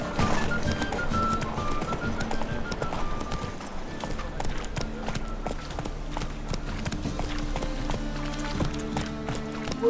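Hooves of a horse in the Witcher 3 video game clip-clop in a steady walking rhythm, close and clear, over a soft musical score and faint clinking tack.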